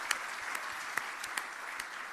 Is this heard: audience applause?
yes